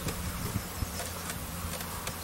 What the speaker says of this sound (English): You've got a little collection of bees on you.